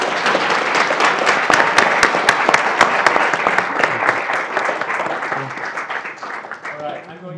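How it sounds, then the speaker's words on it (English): An audience claps steadily after a student debate between college political groups, a dense, loud round of applause that holds for several seconds before slowly thinning out. "Please give everyone a round of applause."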